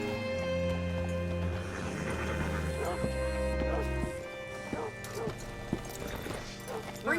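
Horse hooves clip-clop steadily in Red Dead Redemption 2 while a horse is brought to a hitching post. Game ambience and soft talk run underneath.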